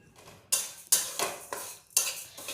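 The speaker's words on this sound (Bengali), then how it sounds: "ওতে এই মুগ ডাল দিয়ে দেব, দিয়ে একটু নাড়াচাড়া করে নেব একদম লো আঁচে" Mung dal being stirred in a hot wok over very low heat, a spatula scraping and clattering against the metal in repeated strokes, close and distinct, with no voices.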